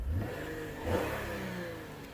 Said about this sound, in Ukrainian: По-перше, V6 має звук.